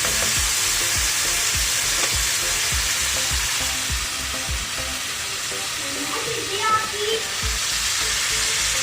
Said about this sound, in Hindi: इनमें चिकन कीमे की भुनाई अच्छे से हो रही है।